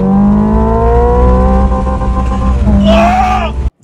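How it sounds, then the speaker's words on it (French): Hyundai Ioniq 5 N electric car playing its simulated engine sound, a synthetic combustion-style drone held steadily at the rev limiter, then a sharp rising whine near the end before cutting off abruptly. "la Ioniq 5N, qui simule des passages de vitesse, des bruits de moteur et même le bruit du rupteur."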